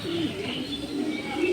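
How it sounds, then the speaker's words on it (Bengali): Janssen-line racing pigeons in a loft in Tangail give soft, repeated throaty coos that rise in short swells at the start and end, with a continuous low background murmur of birds. "এটি একটি মিলি কবুতর।"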